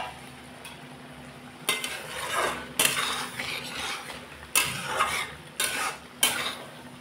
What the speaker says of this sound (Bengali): তেল না ছাড়া পর্যন্ত মশলা থেকে আমি ভালোভাবে কষিয়ে নিই।